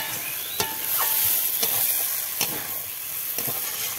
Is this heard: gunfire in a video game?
no